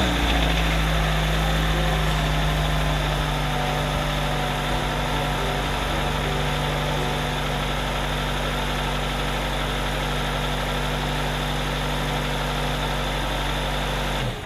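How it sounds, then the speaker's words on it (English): A 2018 Kia Forte engine idles steadily after an oil change, a constant close hum with an even low drone and no speech. "We start it, let it run for a second, circulate the oil, take a look"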